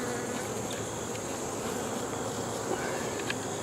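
Worker field honey bees bringing pollen and nectar into the hive make a dense, continuous buzzing hum close by, with no voices over it.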